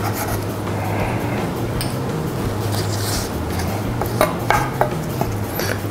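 A knife slices lengthwise through a vegetable on a cutting board while preparing noodles with black bean sauce, with steady soft rasping and a few sharper taps near the end over a low hum.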